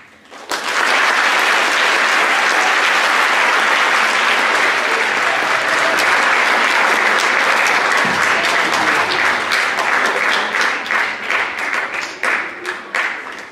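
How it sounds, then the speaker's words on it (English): An audience at a Holocaust memorial presentation gives a loud round of applause. The sustained clapping swells quickly and holds steady, then thins toward the end into scattered individual claps. "another round of applause"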